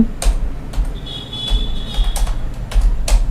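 Sharp, close keystrokes tap out in irregular clusters on a computer keyboard while a web page title is entered, with short pauses between bursts and no voices.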